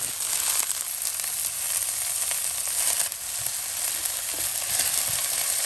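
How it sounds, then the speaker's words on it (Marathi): Cabbage fries in a pan over high flame with chana dal and coriander, giving a steady, dense sizzle that holds without a break, close and fairly loud with no voices. "हाय फ्लेमाचेर बरें भाजून घेवप एका कॅबेजीक."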